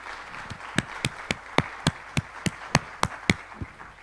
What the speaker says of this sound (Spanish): Vamos a darle un aplauso a Lila